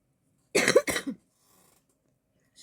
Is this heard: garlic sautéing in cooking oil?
no